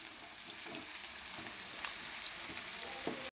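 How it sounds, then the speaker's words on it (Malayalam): Onion, fennel seeds and crushed garlic and ginger fry in a pan while being stirred, giving a steady close sizzle with a few soft scraping knocks from the spoon, with no talking. "നന്നായി ഇളക്കി കൊടുക്കാം."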